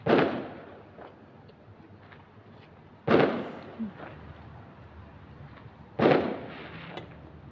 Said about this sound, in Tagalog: nagpa-fireworks yung iba.